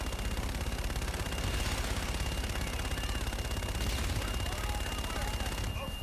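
Sustained rapid gunfire and heavy impacts from a called-in fire support strike in the sci-fi shooter Call of Duty: Infinite Warfare, a loud dense barrage rattling continuously for several seconds with radio chatter beneath.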